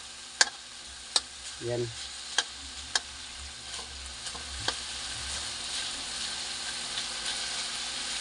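Longganisa sausage sizzles in its own rendered fat with a steady close crackle, punctuated by several sharp clacks of a utensil stirring against the pan; a short spoken word briefly rises over the frying.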